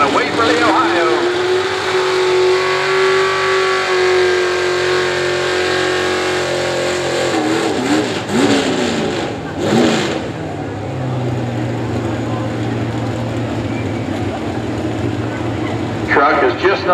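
A heavy GMC pulling truck engine roars and revs hard at a truck and tractor pull, straining under load, its pitch rising and falling while an announcer talks over the noise.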